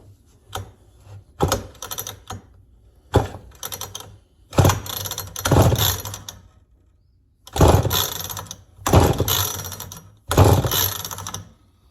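A Mac 10-10 chainsaw is pull-started over and over without firing, each yank giving a short rasping whir of the recoil and engine, in seven or so bursts separated by short pauses.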